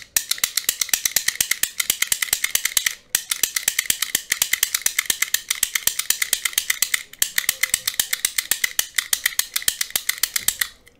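A manual lock pick gun snaps away at a lock in a long, rapid series of sharp metallic clicks, close and steady, with two brief pauses between bursts.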